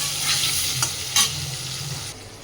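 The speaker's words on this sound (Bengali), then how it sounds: "হলুদ লবণ দিয়ে আলুটাকে আমি লাল করে ভেজে নিচ্ছি" Desi red potatoes fry in mustard oil with turmeric and salt, giving a continuous close sizzle with a few brief stirring scrapes and clinks, no voices.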